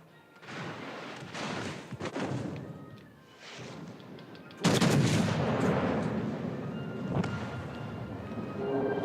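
Naval gunfire in the World of Warships: Legends video game: repeated heavy booming salvos from warship guns, loud and close, with a big blast near the midpoint and rumbling reports continuing after, with faint talk underneath.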